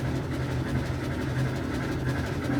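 A train rumbles across a player-built bridge in the puzzle game Bridge It, a steady low mechanical drone and rolling rattle holding at even loudness throughout with no talk over it.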